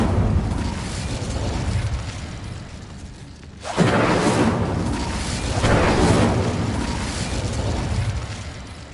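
The Incendio fire spell in the video game Hogwarts Legacy erupts as a sudden loud whooshing burst partway through, then a rolling fiery roar that swells and fades.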